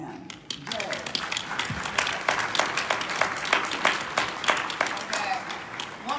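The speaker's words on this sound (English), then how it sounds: "one big round of applause for all our panelists" Dense, steady applause from a large audience for panelists at a public forum, many hands clapping continuously at even loudness throughout.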